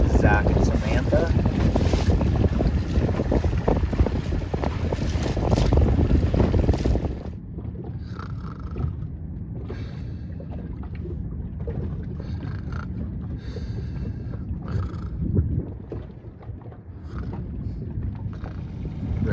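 Wind and water rush around a C420 racing dinghy under sail at a regatta, loud buffeting gusts at first, then a softer steady airy hiss with splashes and faint distant voices.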